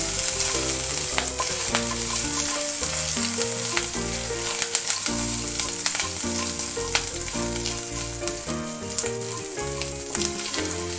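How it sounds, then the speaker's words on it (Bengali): Ginger sizzles steadily as it fries in a pan for a Bengali radish mash, a dense continuous crackle with occasional sharper pops, close and fairly loud throughout, with no talking. "আদাটা একটু ভেজে নেব কাঁচা গন্ধটা চলে যাবে"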